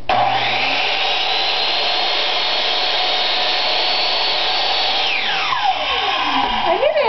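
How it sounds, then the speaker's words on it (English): A miter saw runs with a loud steady motor whine throughout, close by, and the pitch drops at the end as the blade spins down after the cut. "This is Britni using a miter saw for the first time."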